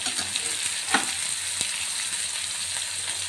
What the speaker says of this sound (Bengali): পেঁয়াজটার সঙ্গে টমেটোটা ভাজা ভাজা হয়ে যায়